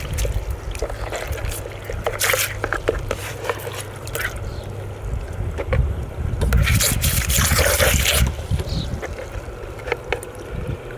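Running water washing gravel and ore residue through a GOLDROP funnel into the trap, a continuous rushing splash with gritty rattles and surges of heavier flow midway, close and fairly loud.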